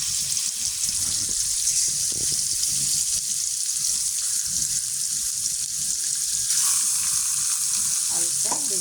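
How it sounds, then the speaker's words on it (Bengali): Pieces of large fish lightly frying in oil in a pan, a steady loud sizzle throughout with occasional clinks and faint water-like splashes. "তারপর তেল দিলাম, তারপর মাছগুলো হালকা ভেজে"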